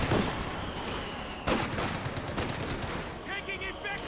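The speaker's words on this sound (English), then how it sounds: "Suppression coming in from the MG on the VP there." A machine gun lays down suppression fire in a World War II tank strategy game, with rapid bursts of gunfire, a sharp crack midway and other game effects under a commentator's voice.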